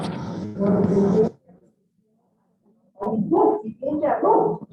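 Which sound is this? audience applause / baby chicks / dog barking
dog barking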